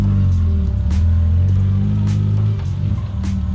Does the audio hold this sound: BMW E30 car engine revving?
yes